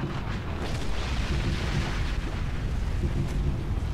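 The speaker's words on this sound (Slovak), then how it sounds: "Viete, post-apokalyptická hra hneď výbuch." A video game explosion in Far Cry 3 Blood Dragon swells into a sustained, loud roaring rumble with heavy low-end crackle that stays dense for several seconds, with no voices.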